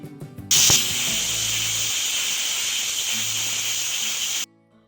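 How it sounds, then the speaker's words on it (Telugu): A pressure cooker of chickpeas lets off a loud, steady whistle of steam that rises abruptly, holds for about four seconds, then cuts off sharply. "ఇప్పుడు కుక్కర్ మూత పెట్టుకొని ఐదు విజిల్ వచ్చేంత వరకు ఉడికించుకోవాలండి"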